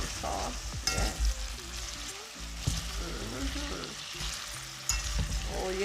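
Escovitch fish aromatics sizzle and crackle steadily while frying in oil for Jamaican-style Escovitch fish, with stirring clatters and scrapes in the pan, close and moderately loud.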